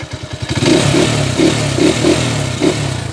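A Honda TMX125 Kaliskis motorcycle with a 200cc conversion and a modified carburetor idles roughly and then revs up in short blips, close and loud, with a lumpy mid-pitched engine note and some clatter, no talking.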